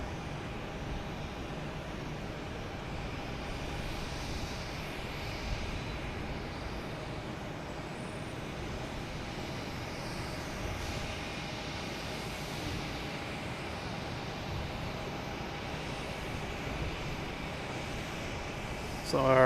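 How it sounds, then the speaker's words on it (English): A Spirit Airlines airplane taxiing toward runway 33 left at Boston Logan Airport, a distant, steady jet engine rumble and whine that runs throughout at low level, with a voice talking over it. "You can see we got a Spirit out here finally making its way out to the"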